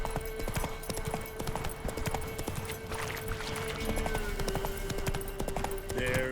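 Roach, the horse in The Witcher 3, gallops with steady rapid clip-clopping hooves, close and continuous over a game soundscape with a sustained tone, with occasional voices in the background.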